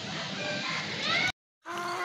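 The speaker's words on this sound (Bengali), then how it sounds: "দুইটা হচ্ছে মুরগি, একটা হচ্ছে মোরগ।" Two laying hens and a rooster kept for sale, giving short clucking and squawking calls close by, with the sound cutting out briefly near the end.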